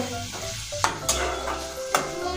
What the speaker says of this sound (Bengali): এবার আলুটা দিয়ে দিচ্ছি আর আলুর সঙ্গে আর মশলার সঙ্গে ভালো মতো কষতে থাকবো